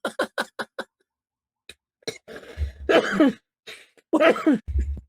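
A burst of several quick coughs, followed by a pause and then a person talking with another cough or throat-clear breaking in.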